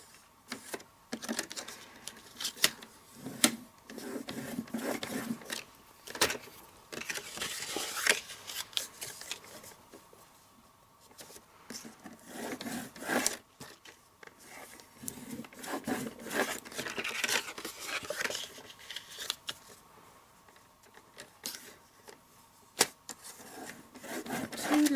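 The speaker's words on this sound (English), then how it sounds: "So I'm going to line that edge at the 3 1/4 inch mark and score." Cardstock being scored along a measured line for making a box, repeated scraping and rubbing strokes of a tool pressing into paper, close and moderately quiet, with irregular bursts and pauses throughout.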